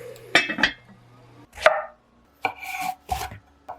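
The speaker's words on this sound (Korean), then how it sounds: "가지는 너무 크지 않게 잘라주었어요." A knife chops eggplant on a cutting board in a few quick, crisp bursts of close taps separated by short pauses, with no voices.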